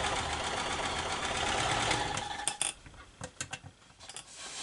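A foot-pedal sewing machine runs with a fast, even whir, then slows into a string of separate clicks and knocks as stitching eases off near the end.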